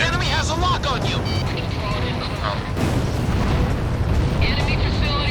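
Enemy facility blown up in the Ace Combat flight game, a heavy rumbling explosion roar with jet noise that swells midway, loud and continuous, while a voice talks over the first part.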